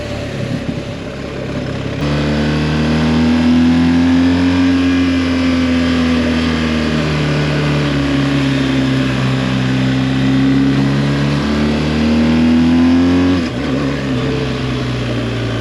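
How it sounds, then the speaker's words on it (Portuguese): BMW R1250 GS motorcycle engine revving hard, a loud sustained exhaust roar rising and falling in pitch across several seconds, close by, with no talk. "É engraçado a diferença de barulho da moto quando ela passa às 5000 rotações e começa a disparar a sério"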